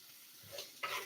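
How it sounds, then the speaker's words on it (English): Vegetables coated in oil are stirred in a pan over medium heat, with a soft sizzle and two scraping, hissing swells of stirring, the second louder, close up with no talk. "Just give it a good stir so everything gets mixed together. The oil coats all of your veggies."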